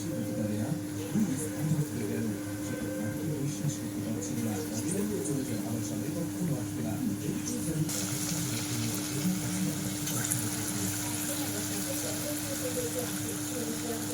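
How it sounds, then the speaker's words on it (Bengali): Palm fritters frying in hot oil give a steady low sizzle and bubbling throughout, fairly close, with faint background noise and no clear speech over it. "তেলটা গরম আর ওদিকে আর দু পিস ছিল দিতে সেটা ভেজে একসাথে সবগুলো নিয়ে সব ভেজে নিচ্ছি"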